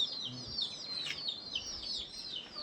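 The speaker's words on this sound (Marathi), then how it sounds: "आपल्या सर्वांच्या कोंबड्या मस्तपैकी जेवायला बसलेले दोघं पण" Village chickens eating fenugreek greens and flatbread give thin, high chirps and soft clucks in a loose, irregular stream, close by over quiet surroundings.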